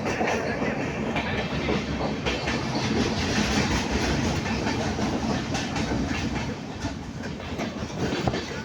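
A train rumbles through a mountain tunnel with a steady, close, enveloping roar and a rhythmic clickety-clack of wheels on the rails.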